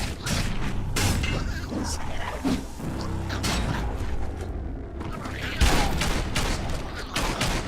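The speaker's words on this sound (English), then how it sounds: "Bumper Bunker's busy ram-banging the door." In Biomutant, a ram batters a bunker door with heavy repeated thuds and clanks, set among rattling mechanical noise and booming impacts that come in an uneven, rapid rhythm.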